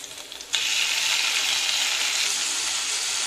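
Okra and chilli sautéing in a pan, a soft sizzle that jumps into a louder, steady frying hiss after a sudden onset, continuing evenly without any talking.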